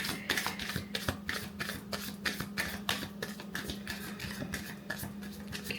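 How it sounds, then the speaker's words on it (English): Tarot cards being shuffled by hand in a quiet room, a soft run of rapid riffling taps and papery flutters, close and low in level with a faint steady hum beneath. "maybe one more little shuffle here."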